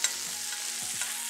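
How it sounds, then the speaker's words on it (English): Butter dropped into a hot pan beside a searing rib eye steak gives a continuous close sizzle and crackle of frying fat. "we drop the nice butter."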